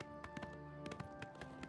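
Horse hooves clip-clopping in the video game The Elder Scrolls IV: Oblivion, a run of distinct, evenly spaced hoofbeats over a steady hum of game music.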